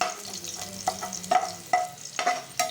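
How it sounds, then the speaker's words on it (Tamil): Garlic sautéing in hot oil in a pan for a banana and vegetable stir-fry, with steady sizzling broken by several sharp scraping stirs. "இப்போ இந்த வெள்ளைப்பூடு நல்லா நம்ம வதக்கிக்கலாம்."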